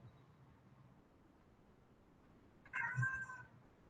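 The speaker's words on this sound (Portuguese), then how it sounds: "Meu gato, vocês estão vendo meu gato aí" A house cat gives a single short meow, close and clear, after a stretch of quiet room tone in an indoor setting.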